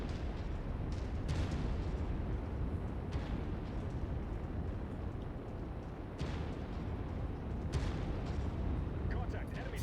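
Artillery bombardment in the video game Mechwarrior 5 sounds as a dense, continuous rumble with repeated heavy booms and blasts, loud and steady throughout.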